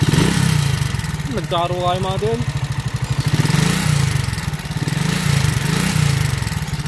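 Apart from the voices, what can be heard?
motorcycle engine running noisily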